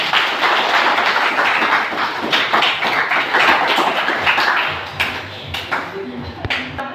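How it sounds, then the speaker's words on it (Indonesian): Classroom audience claps together in a steady, dense burst of applause lasting several seconds, then thins into a few scattered claps and taps near the end. "Berikan tepuk tangan dulu."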